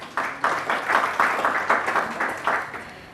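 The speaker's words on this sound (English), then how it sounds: "let's give Mr. D'Souza a big round of applause" A conference audience gives a short round of applause: rhythmic, moderately faint clapping swelling in waves for about three seconds.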